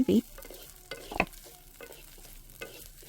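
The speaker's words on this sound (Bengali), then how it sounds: "এই পেঁয়াজটা একটু বাদামি বাদামি করে ভেজে নেব" Onions frying in oil in a wok, browning for a dried-fish bharta: a soft, steady sizzle broken by a few louder spatula knocks and stirring scrapes, with no voices.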